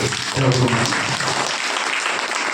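A crowd claps steadily and densely for a few seconds, with a voice faintly audible near the start.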